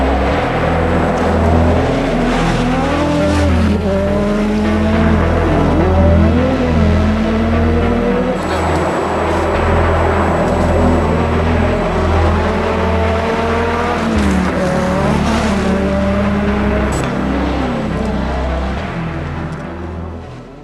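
An RS 200 replica rally car drives with a loud, sustained engine roar, the pitch climbing and dropping through gear changes, close and continuous with no voices.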